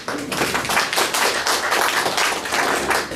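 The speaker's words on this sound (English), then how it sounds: "So give yourself a round of applause." Applause from a club meeting audience, a dense patter of many hands clapping steadily and fairly loud throughout, with no talking over it.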